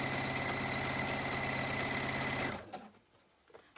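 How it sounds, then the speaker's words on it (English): A sewing machine running a zigzag stitch up a seam on men's boxers: loud, steady, close mechanical whirring with rapid stitch rhythm for about two and a half seconds, then stopping into faint handling noises. "all I'm doing is zigzagging up towards the point"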